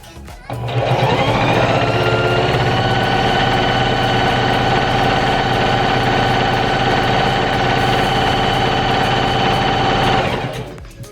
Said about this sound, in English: leave about a 1/4 inch of space, and you're just gonna sew.